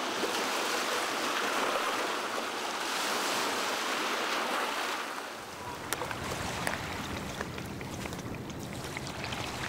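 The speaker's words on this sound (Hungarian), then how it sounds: "Ez itt Patagónia, ez még nem a hegyek, ez a tenger." Sea surf on the Patagonian coast rushes in a continuous broad wash, loud and close, with heavy wind buffeting at first, then a lighter hiss with faint scattered clicks.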